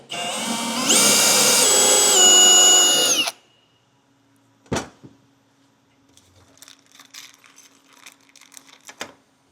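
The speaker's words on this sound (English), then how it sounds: "we're gonna go ahead and mark and drill out this first hole down on the bottom here" A power drill bores a rivet hole for a Skidoo running board brace, a loud high whine for about three seconds, followed by a sharp clack and faint scattered tool handling noises.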